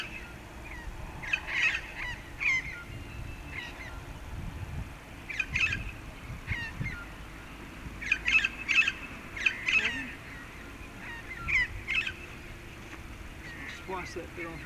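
Magpies squawking in harsh, scattered bursts as they swoop at a small test-flight drone, calls clustering in short volleys over a steady low motor hum.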